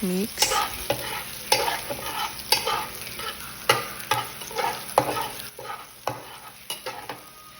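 Rainbow-cut sliced onion stirred in a frying pan after garlic, with rhythmic scraping strokes and clicks of a utensil against the pan roughly every half second over a soft sizzle, close and without speech.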